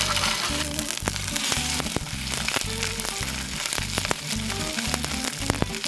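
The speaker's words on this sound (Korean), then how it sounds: "달궈진 솥에 기름을 아주 조금만 두르고 연어를 겉면만 빠르게 익혀줄게요." Salmon sears in a little oil in a hot pot, giving a steady close sizzle with frequent crackling pops and faint stirring clatter, with no talk.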